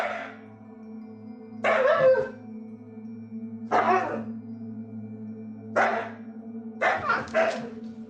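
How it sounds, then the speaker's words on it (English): A husky with the zoomies barks in a handful of separate loud bursts spread across the clip, with a steady low hum running underneath between them. "uploaded to Reddit by user Frankie Frosty, a husky appears to be caught in the midst of an intense case of the zoomies."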